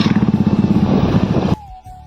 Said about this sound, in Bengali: আমরা যাচ্ছি এখন জলপেশ থেকে জটিলেশ্বর বাইক নিয়ে